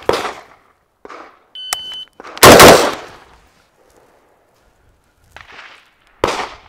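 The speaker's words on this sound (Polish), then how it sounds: "Ten karabin sam strzela." A PWS long-stroke piston rifle fitted with a muzzle brake and a Hyperfire trigger fires several sharp, loud, close-range shots at uneven intervals, with a short electronic beep between them.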